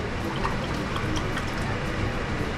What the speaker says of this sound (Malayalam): നമ്മൾ ഗ്ലാസ്സിൽ വെള്ളം അളന്നൊഴിക്കണം.